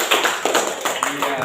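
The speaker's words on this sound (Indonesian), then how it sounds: "Tepuk tangan untuk kelompok BM dia." Students in a classroom clap for a group that has just presented its discussion results, a short burst of scattered, uneven claps mixed with voices.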